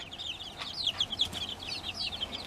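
Backyard chickens perched on a feeder, a flock giving soft, continuous clucks and peeps at close range with no voices.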